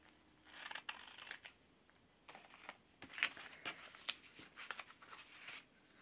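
Scissors trimming paper half sheets for a miniature journal, a quiet series of crisp snips mixed with soft paper rustling, no talk.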